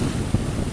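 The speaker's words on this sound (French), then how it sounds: "il y a toujours un bon petit vent. Ah, ça fait du 15 à 17 nœuds" Steady wind buffeting a sailboat under way in the Gulf of Ajaccio, Corsica, blowing about 15 to 17 knots, a continuous low rushing roar with one brief gust thump partway through.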